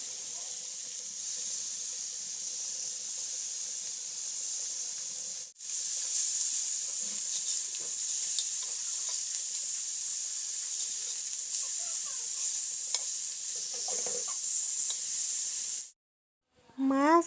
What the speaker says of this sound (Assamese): এতিয়া ৰাতিৰ ডিনাৰৰ কাৰণে মাছৰ কাৰী বনাম। সেইকাৰণে আগতে মাছখিনি ভাজি ল'ম।